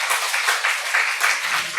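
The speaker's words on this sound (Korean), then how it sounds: "우리 하나님 박수 올려드립니다" A church congregation applauds during a Sunday worship service, a steady, dense wash of many hands clapping throughout with small surges, fairly close and filling the room.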